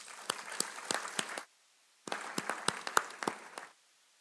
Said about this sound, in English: I would like everybody to join me in giving a round of applause to all the new